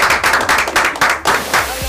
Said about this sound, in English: Congratulations, clap yourselves.